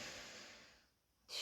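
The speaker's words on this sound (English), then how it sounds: "Slowly taking time to catch your breath here." Heavy breathing after a downward facing dog yoga pose: a long, soft exhale that tapers into near silence, then a sudden sharp inhale at the end, close and quiet.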